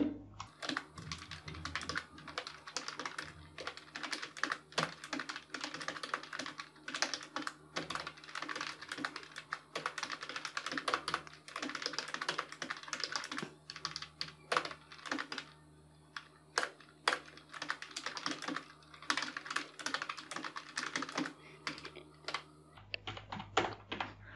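Steady, fast typing on a computer keyboard as HTML code is entered: a dense run of close, crisp key clicks with short pauses, and a brief heavier tap near the end.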